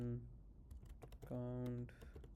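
Quick clicks of typing on a computer keyboard, with a voice talking over and between the keystrokes.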